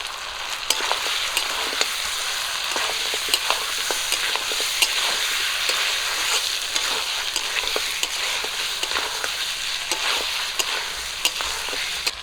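Steady sizzling of mutton frying in a pan with ground spice paste, with regular scraping and clacking from stirring throughout, no voices.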